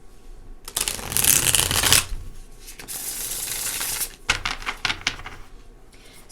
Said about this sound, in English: Let me just shuffle one more time.